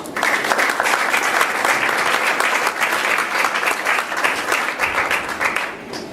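An audience applauds to welcome a lecturer to the podium, a full, close burst of many people clapping that holds steady and then starts to thin out at the very end.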